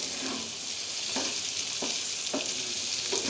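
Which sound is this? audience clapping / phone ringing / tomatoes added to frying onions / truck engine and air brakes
tomatoes added to frying onions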